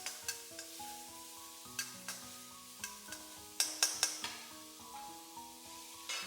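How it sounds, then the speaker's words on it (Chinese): Chopped scallion, ginger and garlic stir-fry in a little oil, a soft sizzle broken by sharp rhythmic clacks of a spatula against the wok, quiet and close. "下入切好的葱姜蒜末，快速的给它翻炒"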